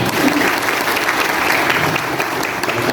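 Dense, steady applause from an audience at a police gathering in Nakhon Pathom, Thailand, filling the whole short stretch at close range without pause.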